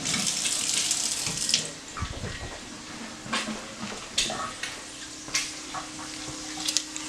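Hands are rinsed under a running kitchen tap, a steady close splash of water that breaks into intermittent bursts and drips as the hands move in and out of the stream, taken during lard rendering.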